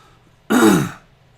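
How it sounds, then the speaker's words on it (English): A single short, harsh cough bursts out close by, lasting about half a second in otherwise quiet surroundings. "flipping cough"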